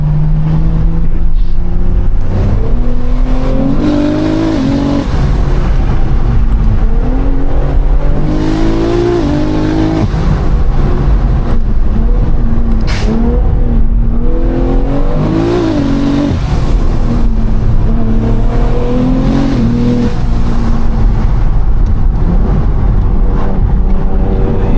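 A 1400bhp BMW M3 Touring running low boost, heard from inside while driving, its engine loud and continuous as it repeatedly revs up and accelerates through rising gear pulls, with no talk.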